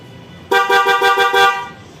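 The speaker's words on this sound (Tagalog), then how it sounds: "natin yung busina kung ano ba ang tunog." A motorcycle horn sounds loud and close in a quick burst of about five short, rapid honks, with quiet surroundings before and after.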